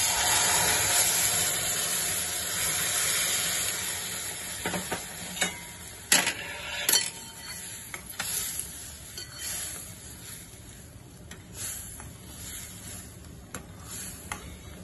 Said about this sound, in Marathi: आता यामध्ये उकळलेलं दूध आणि पाणी मिक्स करून घेऊया